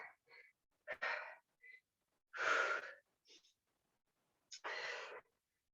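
Heavy breathing during a muscle-strengthening leg exercise, several sharp inhales and longer forceful exhales in uneven bursts separated by silence, close and fairly loud.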